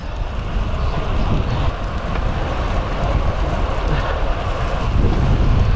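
Headwind buffeting the microphone on a gravel bike ride along a cycle path, a loud, continuous low roar of rushing air that stays steady throughout with no voices.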